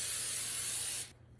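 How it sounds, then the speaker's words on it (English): Cooking spray hisses from a can onto parchment paper lining a baking sheet in a home kitchen, a single steady burst lasting about a second before cutting off abruptly, close and loud with no talking. "that you do spray it with cooking spray."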